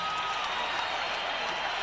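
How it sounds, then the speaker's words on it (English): Arena crowd applauding two featherweight boxers after an eight-round knockout bout, a continuous wash of distant clapping and cheering, even and moderately loud with no distinct individual claps. "How about a round of applause for two featherweights in this ring"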